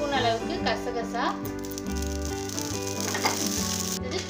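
Whole spices such as cumin, fenugreek, cloves, cinnamon, poppy seeds and dried red chillies dry-roasting in a pan, giving a steady crackling sizzle heard close under continuous music, with some rattling as they move.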